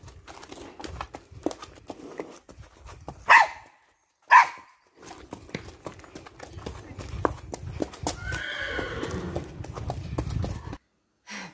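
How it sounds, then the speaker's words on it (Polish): A horse brought from Spain, trained to a high level, is led out toward a paddock at a stable. Steady hoof clops carry on throughout, broken by two sharp, loud neighs or snorts, with quiet voices in the background. "Przepiękny koń."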